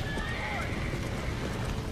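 A horse in the video game Red Dead Redemption, with whinnying and clip-clopping hooves running steadily through a dense, noisy game soundscape, with voices faintly mixed in.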